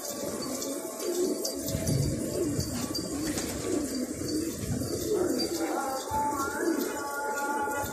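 A large flock of about 120 pigeons keeps up a dense, continuous cooing with scattered chirps, steady and fairly near, as the birds are flown.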